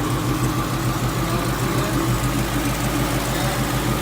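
A 2015-2017 Ford Mustang GT with its catalytic converters deleted and a Corsa Xtreme exhaust idles steadily up close, a deep, loud low rumble with a faint lumpy pulse and no voices.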